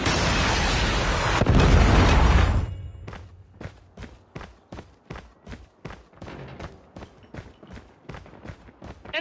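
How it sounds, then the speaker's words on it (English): A predator missile strike in Call of Duty Mobile lands as a loud, sustained roaring explosion. Quieter, evenly spaced running footsteps follow it. "Friendly predator missile inbound."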